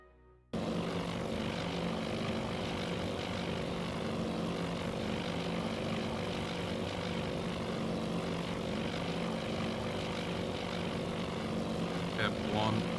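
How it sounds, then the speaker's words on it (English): Propeller aircraft drone steadily in the Task Force Admiral naval combat game, a continuous loud engine hum filling the scene after a brief quiet start, with faint talk underneath. "outbound planes, multiple contacts."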